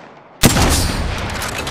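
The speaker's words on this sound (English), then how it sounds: "The enemies are shooting at me." Enemy gunfire in the shooter game Apex Legends bursts in sharply after a short quiet moment and continues as a loud, sustained stream of close shots.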